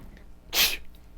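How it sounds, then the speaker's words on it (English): A single sharp sneeze from a novelty sneezing remote control for a black-and-white TV bursts out in the middle of near silence, brief and fairly loud. "we had a sneezing remote control on our black and white single TV in the house"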